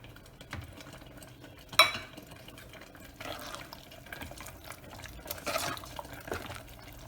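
Thick ground coconut and cumin paste being poured into a pot, with soft wet splashes, a sharp clink near the start, and gentle stirring sounds.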